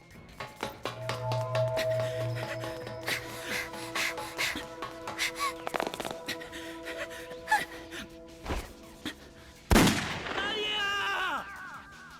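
A single sharp gunshot rings out in a Shadow the Hedgehog cutscene as Maria is shot, a sudden loud burst late in the scene over sustained music, with voices and a gasp around it.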